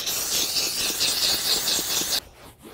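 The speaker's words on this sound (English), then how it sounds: "We cleaned out the mom mobile using the AutoRight steam machine" An AutoRight steam machine hisses while steam cleaning a car interior, a loud steady high hiss with a slight pulsing squeal for about two seconds before cutting off abruptly into quiet.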